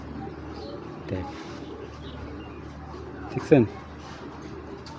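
Pallar breed pigeons coo faintly in the background under someone talking nearby, with one brief, louder cooing call toward the end.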